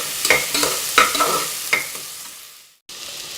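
Small shallots fry with salt in a pan for mutton curry, with several sharp stirring scrapes and sizzle bursts that fade toward a brief cut and a quieter hiss.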